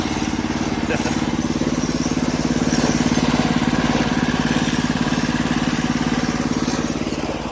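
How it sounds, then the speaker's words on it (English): A small motor mounted on a bicycle runs at a steady, fast putter, loud and close, with a rapid even beat throughout. "He's got his motor set up right there. Right there on the bike"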